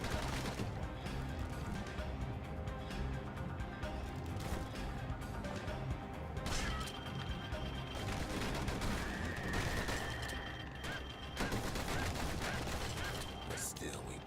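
Rapid gunfire and bursts of flame from a flamethrower and dueling pistols in the action game Bastion, dense and continuous over game music and effects, with a few brief metallic tones.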